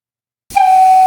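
A steam locomotive whistle on a low-pressure test starts abruptly after a half second of silence, blowing a steady, loud, piercing tone with a hissy edge that holds to the end.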